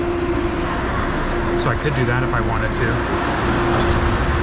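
A carpeted passenger train runs through Hong Kong, its steady rumble and wheel hum filling the space while a person speaks over it close by.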